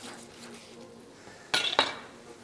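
Knife cutting through charcoal-cooked steak on a plate, two sharp clinks of metal against the dish after a quiet stretch, close and brief.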